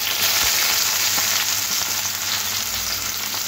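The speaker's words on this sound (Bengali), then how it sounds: "তেলের মধ্যে ফোড়ন দিয়ে দেবো জিরে, তারপরে কেটে রাখা পেঁয়াজ।" Cumin seeds and thinly sliced onion frying in hot oil, a steady close hissing sizzle with faint stirring scrapes.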